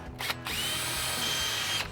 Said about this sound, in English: why is it good to pre-drill those holes?